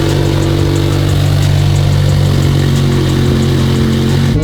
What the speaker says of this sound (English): Put some heat in this engine and let's hit the road.